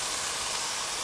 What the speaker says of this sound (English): good sizzle there